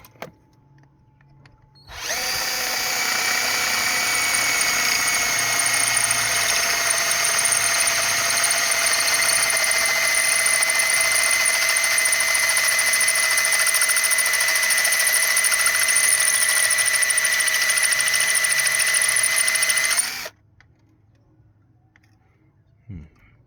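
A power drill with a 9.5 step bit boring into a GTi cylinder head, one loud steady whine held for about eighteen seconds with a sharp start and stop, close, with quiet room noise before and after.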